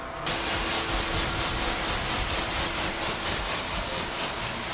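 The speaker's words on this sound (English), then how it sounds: "take the pressure washer and kind of give it a good spray" Steady, loud hissing spray of a pressure washer cleaning a car engine bay runs continuously after a brief start, a broad rushing noise with no talking.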